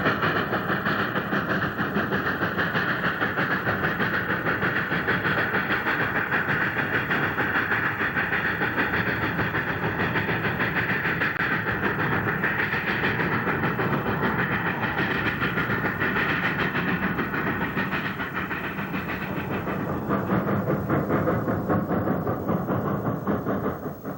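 A Cumbres & Toltec special steam train climbs uphill near Coxo, a steady dense roar of working exhaust and rolling wheels, continuous and fairly close with no talking.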